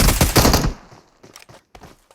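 A video game shooter lets off a loud rapid burst of automatic gunfire, then several sharper isolated shots ring out farther apart in quieter surroundings.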